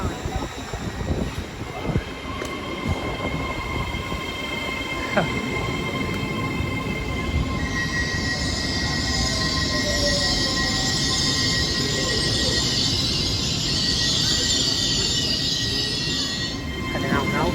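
An LNER passenger train bound for York runs through Doncaster station, a loud rumbling rail roar with wheel clatter and a sustained high squeal building midway, while people talk nearby.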